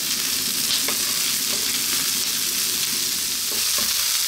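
Broccoli stir-fried with garlic, ginger and onion in a hot pan, a loud continuous sizzle with scraping and stirring strokes throughout.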